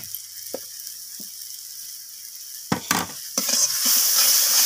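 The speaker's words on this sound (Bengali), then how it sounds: "আদাটাকে দিয়ে আমি টমেটোর সাথে এইভাবে নাড়াচাড়া করে নিচ্ছি" Ginger paste and tomato are stirred in a pan, first with a few sparse utensil taps and clinks, then a sudden scrape and a loud, swelling sizzle that keeps rising to the end.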